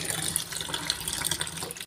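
Taro root (arbi) is washed under running water in a bowl, a close, steady splashing and trickling of water for about two seconds before cutting off.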